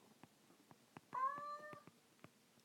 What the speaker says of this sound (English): That's my cat trying to give instruction also.